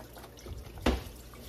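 Chicken broth poured into a seafood boil pot gives a brief liquid splash and trickle, one short pour standing out over faint kitchen background.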